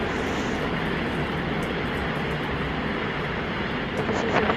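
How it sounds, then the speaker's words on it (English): Starship lifting off on its second flight test, all 33 Raptor engines firing, makes a loud, continuous broadband roar that holds steady throughout with no pauses. "Amazing views of the 33 engines firing the Starship up into the air into space."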